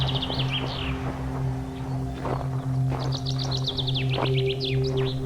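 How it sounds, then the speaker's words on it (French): Bright, quick bird chirps and trilled phrases come in short bursts near a pigsty in the countryside, sung over a steady low hum with a few soft thuds. "un oiseau va chanter"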